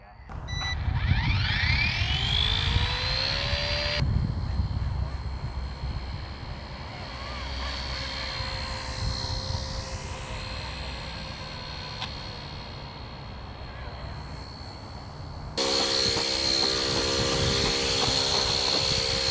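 A small WLtoys XK170 Black Hawk RC toy helicopter whines and buzzes steadily close by, its motor pitch rising and falling as it flies around.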